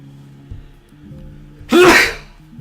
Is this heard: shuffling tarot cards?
no